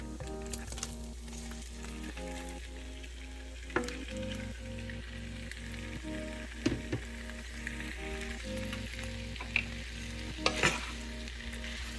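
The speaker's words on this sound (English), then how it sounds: "we're going to go ahead and add our shrimp right here" Peeled, deveined shrimp frying with garlic in a pan for devil shrimp give off a quiet, continuous sizzle, punctuated by occasional sharp stirring clicks against the pan, with no voices.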